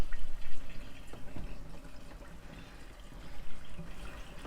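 Water pours from a jerry can through a tap into a campervan's water tank, a steady close trickle and splash running throughout with slight surges, no voices.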